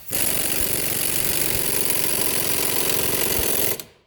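An impact wrench or similar air tool hammers loudly and steadily on a suspension bolt of a 2015 Kia Forte 5 during wheel bearing and control arm work, running continuously for nearly four seconds before stopping abruptly.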